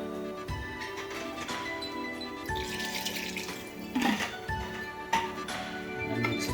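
Water pours steadily into a cooking pot of mutton, a continuous splashing rush with small shifts in pitch, close up and moderately loud.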